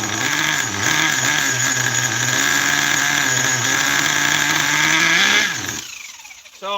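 A carbureted engine running too rich drones loudly and steadily with a rough, uneven note and a faint squeal, then cuts out near the end and leaves a brief quiet tail.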